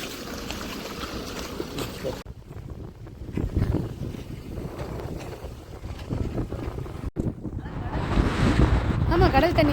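Sea waves wash and roll continuously along the shore while wind buffets the microphone with gusty rumbles, building to a louder surge near the end; a voice can be heard faintly in the mix.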